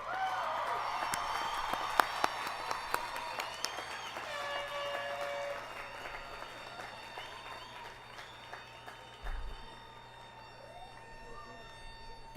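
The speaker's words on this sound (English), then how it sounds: "Let's give them one more round of applause." An audience at a college commencement ceremony claps in a dense patter that starts fairly strong, then thins and fades away. The whole scene is heard from a distance and sounds quiet.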